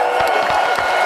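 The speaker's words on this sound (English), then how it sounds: "Snaps and claps" A podcast audience snapping and clapping for guests, a brief, loud burst of dense scattered claps and snaps with crowd noise.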